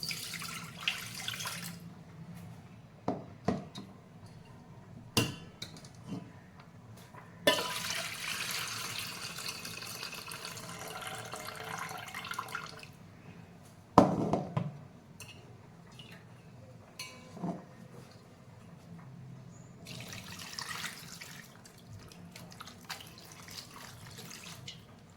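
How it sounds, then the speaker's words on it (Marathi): Homemade butter, churned in a mixer for making ghee, being rinsed with water in a bowl: intermittent splashing and sloshing bursts with pauses between, close and moderately loud. "व पुन्हा 2 ते 3 पाण्याने आपण त्याला स्वच्छ धुवून घेऊ।"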